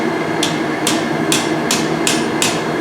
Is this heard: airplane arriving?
no